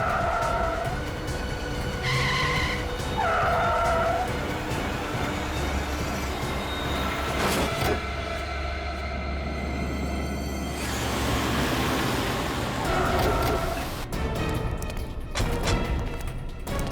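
Tires squeal in repeated sharp bursts as goons drive a car recklessly at night in a crime drama, with a steady low rumble underneath and no talking.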